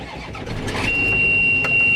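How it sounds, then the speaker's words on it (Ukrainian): A tractor engine, started with a key, cranks briefly and then catches, settling into a steady running rumble close by with no talking. "Щоб запустити двигун, повертаємо ключ в крайнє положення за стрілкою годинника."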